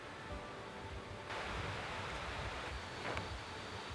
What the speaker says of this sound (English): We hear rushing water, so that's a good sign.